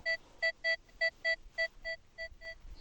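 A Nokta Makro Legend metal detector sounds a quick string of about ten short, evenly spaced electronic beeps while responding to a buried coin, moderately loud against a quiet background.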